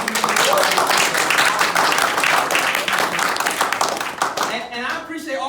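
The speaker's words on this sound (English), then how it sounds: "So let's give a round of applause for tremendous leadership." A crowd at a business opportunity meeting gives a loud burst of clapping and cheering. The applause is dense and sustained at first, then thins out toward the end as a voice begins speaking over it.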